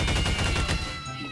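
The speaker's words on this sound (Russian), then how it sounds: "Револьвер будет пожестче." Revolver shots fired in the video game Garry's Mod come as a quick cluster of loud, sharp bangs that fade into a short tail.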